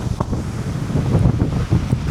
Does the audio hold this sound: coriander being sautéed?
no